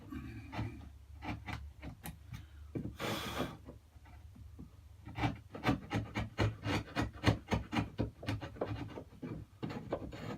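A wood chisel is sharpened during a narrowboat build and fit out, heard as rhythmic rasping and scraping strokes that start sparse and become a steady, quicker back-and-forth near the end, close and moderately quiet.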